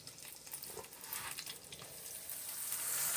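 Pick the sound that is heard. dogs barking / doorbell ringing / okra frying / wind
okra frying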